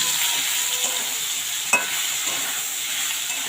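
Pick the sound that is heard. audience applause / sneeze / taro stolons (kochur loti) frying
taro stolons (kochur loti) frying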